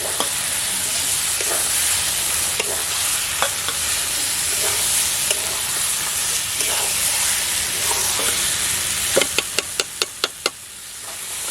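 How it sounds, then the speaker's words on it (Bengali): Meat sizzles loudly in a pan of spice masala under a continuous frying hiss, with occasional stirring scrapes and then a quick run of five or six sharp spoon knocks against the pan near the end. "মশলাটা কষানো হয়ে গেছে আমি এখন মাংস দিয়ে দিলাম"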